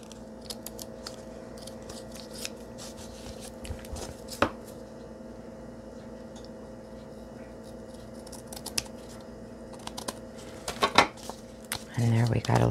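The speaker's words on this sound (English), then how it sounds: "I'll take the fabric scissors." Fabric scissors snip through a book page while making a simple paper envelope, giving a scatter of short, crisp cuts and rustles at close range against a quiet room, with a denser burst of snipping near the end.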